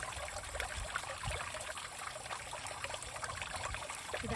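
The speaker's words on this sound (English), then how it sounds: "It's actually the Isis healing waterfall." Water trickles and splashes continuously at a small healing waterfall in a temple garden on Dove Mountain, a close, steady, fairly quiet babble with no voices.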